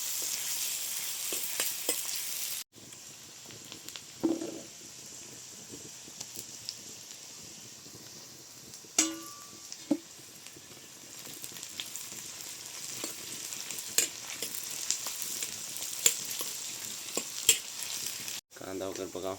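Onions sizzle and fry with crushed garlic and green chilli for a village-style chicken curry, a steady crackling hiss broken by occasional stirring scrapes, with brief pauses in the sizzle.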